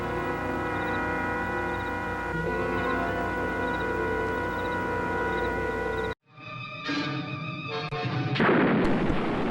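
Heavy artillery blasts and gunfire roar loudly and continuously, then cut out briefly before a fresh burst of explosions and firing swells back in.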